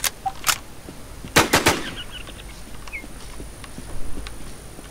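Gunfire in a first-person shooter game: a few sharp shots early, then a tight burst of three or four loud reports near the middle, followed by faint clicks and game effects.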